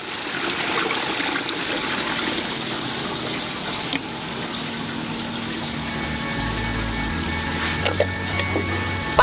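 Flowing water in a science discovery centre exhibit carries a toy boat downstream: a steady, continuous wash and gush of current with a low pump hum and faint background activity, no clear talking.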